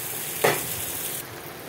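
Onions sizzle with salt in a pan for a surmai fish curry, a steady close frying hiss with a brief louder stir-like burst early on, then slightly quieter.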